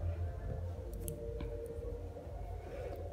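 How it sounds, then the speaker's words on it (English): Scissors snip through crochet yarn in a few quick, close clicks over a steady low background hum. "then you're going to cut off your yarn."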